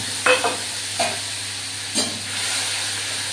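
Biryani spice paste fries in oil with cumin and cardamom, making a constant sizzle, with three distinct scraping stirs of a spoon in the pan.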